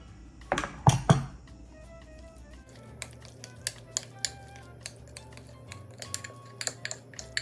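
A spoon stirring zucchini in a pan: two sharp clanks at first, then light scattered scrapes and taps against the cookware over a quiet background.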